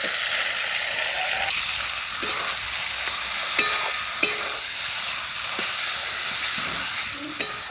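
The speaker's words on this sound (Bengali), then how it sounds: "এবার কুচনো টমেটোটা দিয়ে দিচ্ছি" Chopped tomato frying in a pan for a Sundarbans crab dish, a loud continuous sizzle with several sharp scrapes and taps of a spatula stirring throughout.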